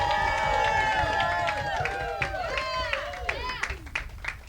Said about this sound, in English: we need to extend another round of applause to Yvonne and Joseph